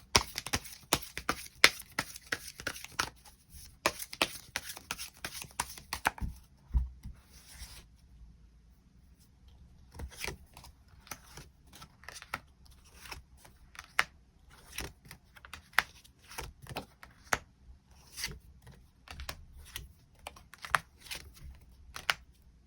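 Tarot cards drawn and handled on a table: a steady run of crisp taps, flicks and soft slides, busier at first, then a brief lull and more scattered clicks, close and fairly quiet with no talking.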